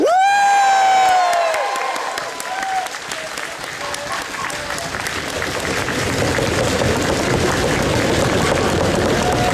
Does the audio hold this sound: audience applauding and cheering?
yes